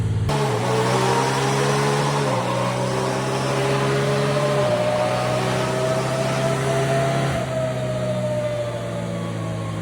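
Can-Am Maverick R side-by-side engine running hard on a dyno, a loud continuous drone with pitch stepping up through gear changes, held in a higher gear, then easing slightly near the end, no voices.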